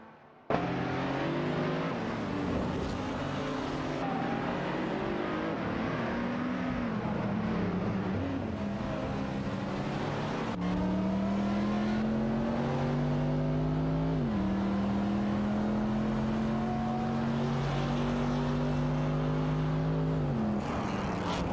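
Race cars in a racing video game, including a Honda NSX-R2 and a Ferrari 575 Maranello, rev loudly and continuously with rising and falling engine pitch as they shift gears and jockey for position.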